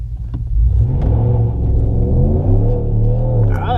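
A 2019 RAM 1500 two-wheel-drive pickup truck accelerates hard from a standstill toward 60 mph, its engine rumbling loud and close as the revs climb through several rising gear pulls.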